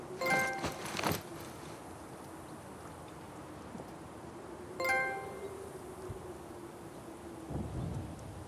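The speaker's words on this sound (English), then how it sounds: "let's hear the platinum chime" The platinum trophy chime from the video game The Last of Us Part 2 sounds as a soft, bright chime that recurs a few times over a quiet, airy background.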